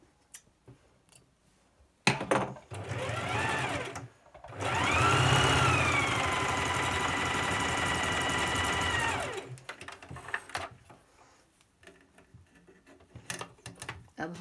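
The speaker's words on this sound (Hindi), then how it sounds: "चलो इसी तरह हमने दूसरी तरफ भी सिलाई लगा लेनी है" Electric sewing machine stitching fabric for a designer suit, a loud, steady whirring run of several seconds framed by short bursts and quieter handling clicks before and after.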